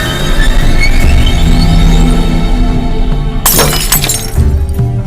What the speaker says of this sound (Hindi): ये तो ग्लास टूटने की आवाज है।